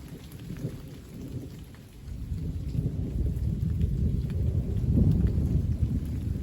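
Steady heavy rain pours down at the end of a thunderstorm while deep rumbling thunder rolls in, swelling louder toward the end into a big thunderclap, with no voices.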